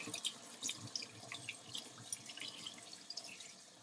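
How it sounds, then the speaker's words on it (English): Cold tap water runs over etched glass as it is rinsed: a quiet, continuous splashing stream with small irregular spatters and drips close by, with no talk over it. "So water's cold and I'm just gonna kind of rinse it off."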